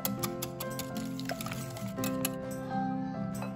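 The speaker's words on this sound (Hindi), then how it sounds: "अब इसमें मैं मैश किए हुए केले में मैं डालूंगी 2 अंडे। इसे कर देते हैं अच्छे से मिक्स।" Two eggs are stirred into mashed banana for a ragi chocolate banana cake, giving soft, continuous wet squishing and sloshing close up at a quiet level.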